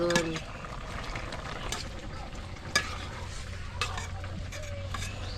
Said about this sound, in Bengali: আজকে কি রান্না হচ্ছে মাছ আলু আলু দিয়ে মাছ